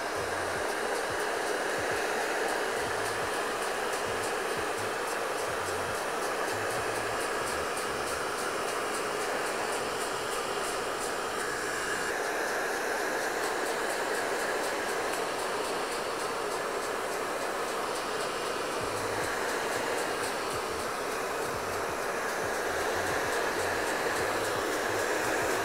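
A hair dryer blows steadily and loudly the whole time while it dries and straightens short hair. The roar stays continuous and close, with no talking.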